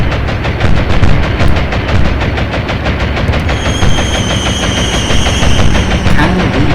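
Rapid rattling bursts of an airstrike in the naval combat game Atlantic Fleet, loud and continuous, with a high whine entering partway through.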